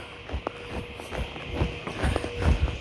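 Hooves of a horse being trotted for lead work land in uneven, fairly close thuds and clops on soft ground, several beats spread across the moment with no talk.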